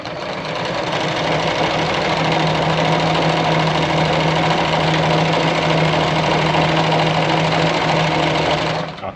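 Close and loud, a Jones Brother model 687 sewing machine sews a straight stitch with a steady mechanical hum and fast, even needle chatter that runs without a break for about nine seconds.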